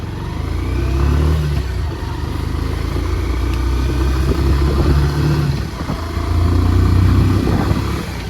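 A new motorcycle with clip-on handlebars is ridden on the road, its engine droning loudly with rising and falling revs as gears shift, wind and road rumble constant throughout.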